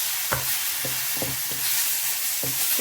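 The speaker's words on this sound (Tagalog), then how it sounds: "Lalagyan natin yung ating bigas. Haluin ng haluin." Rice being stirred in a pan for a Philippine-style paella: about six scraping strokes of a utensil against the pan over a continuous frying sizzle, close and fairly loud.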